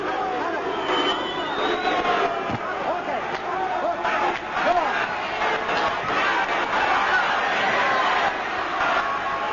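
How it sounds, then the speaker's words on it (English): A large boxing arena crowd roars and calls out during an IBF junior welterweight title fight, a dense, steady wall of shouting and cheering with no clear break. "The big crowd calling for a knockout"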